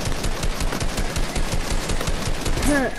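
Rapid automatic gunfire in the video game Fortnite, dense continuous bursts of shots filling the whole moment, with a brief voice-like sound near the end.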